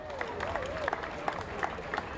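A crowd at a Friday night football game applauds and cheers in a steady, dense wash of noise, with scattered sharper claps and a thin whistle-like tone drifting through.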